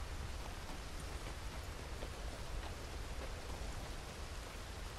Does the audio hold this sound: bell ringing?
no